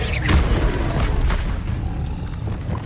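Expelliarmus spell cast in Hogwarts Legacy, a loud booming magical burst with a rushing whoosh that decays over a few seconds.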